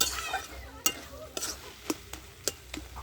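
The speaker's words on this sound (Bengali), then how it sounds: "আমি আলুগুলো একটু খুঁটি দিয়ে ঘেঁটে ঘেঁটে দিচ্ছি দিলে তরকারিটা একটু মাখা মাখা হবে" Potato and thankuni leaf curry being stirred and mashed with a spatula: a series of sharp scraping clacks at uneven intervals, fairly close, over a faint background sizzle, with no talking.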